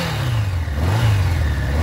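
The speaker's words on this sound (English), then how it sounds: "Really got to rev her out" A Honda CB550 Nighthawk motorcycle engine revving hard and close, a loud steady roar that rises and falls slightly, alone without talk.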